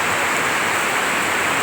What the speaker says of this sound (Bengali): বাপরে বাপ, এত বৃষ্টি কি বলবো